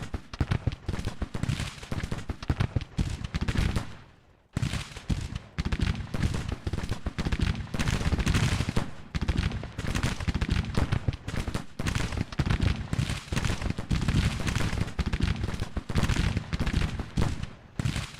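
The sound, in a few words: gunfire from Colt revolving weapons and musketoons, Grand Tactician video game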